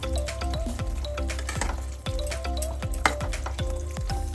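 Fish sizzles steadily in hot oil in a pan for a curry, a continuous crackling fry with occasional clinks of a utensil and music playing underneath.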